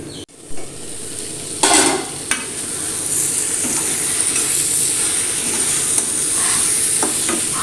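Fenugreek leaves and potatoes being stirred in a frying pan for a North Indian dish, with a steady close sizzle and hiss broken by a few scraping stirs near the start.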